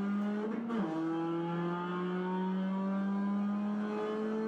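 Race car in a sim racing game pulling away from pit lane after revving and a clutch dump, the engine climbing steadily in pitch, smooth and alone at moderate volume.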